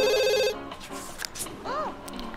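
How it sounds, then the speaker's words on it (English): A telephone in The Sims 2 video game rings with a bright electronic trill for about half a second, then cuts off and gives way to quieter game sounds and a brief rising chirp. "come and answer the phone"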